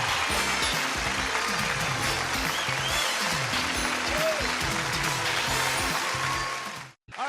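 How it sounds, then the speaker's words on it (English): A game show studio audience claps in steady, loud applause that fills the room for several seconds, then cuts off abruptly near the end. "They're applauding for you."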